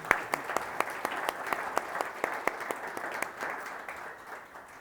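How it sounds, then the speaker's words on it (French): An audience in a conference hall applauds the panelists at a talk on small hydropower, a steady round of clapping with a few sharp, distinct claps standing out, fading slightly toward the end. "on va applaudir nos panélistes."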